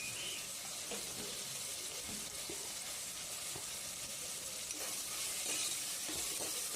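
Tomatoes and onions sauté with salt in a pan, a continuous soft sizzle broken by scattered stirring clicks and scrapes.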